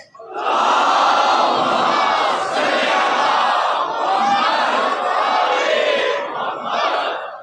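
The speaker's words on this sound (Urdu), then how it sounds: "ایک اور بلند صلوات" A mosque congregation chants salawat together at full volume, a broad wall of many voices that rises quickly, holds steady and fades briefly near the end.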